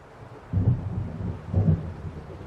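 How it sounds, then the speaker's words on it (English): Thunder rolls twice over a dark, stormy sea in the game Alan Wake, two deep rumbling swells against a low wind-and-rain bed, no talking. "It seems there's a storm coming"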